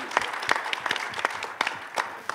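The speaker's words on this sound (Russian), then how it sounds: "Давайте друг другу поаплодируем." Sparse, scattered applause at a cybersecurity conference session, a small audience of distinct individual claps close by, brief and uneven.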